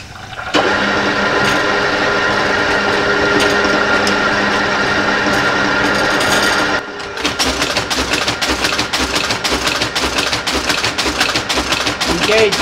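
A Monotype caster type-casting machine starts up and runs, first a loud steady whirring drone, then a rapid, regular mechanical clacking rhythm, close and continuous.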